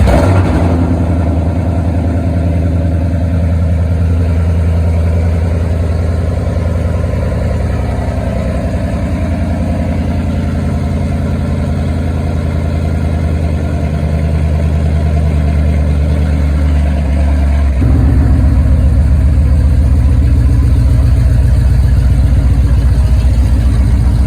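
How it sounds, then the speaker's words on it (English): A Ford Coyote V8 with open headers idles loud and steady with a deep, throbbing burble, then the engine note rises and hardens as it is revved partway through. "It sounds better than most Coyotes open header."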